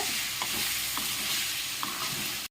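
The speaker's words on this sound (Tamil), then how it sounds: "சிக்கனை சேர்த்துட்டு 1 நிமிஷத்துக்கு நல்லா கலரி விடுங்க." Chicken frying with onions in a pan, a steady, close hiss with a few soft scraping strokes of the spoon, no voices.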